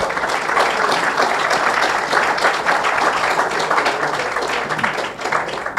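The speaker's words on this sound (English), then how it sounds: "let's give the museum a big round of applause" An audience at a startup fundraising meetup in a Miami science museum applauds, a dense, steady wash of clapping that holds for about six seconds.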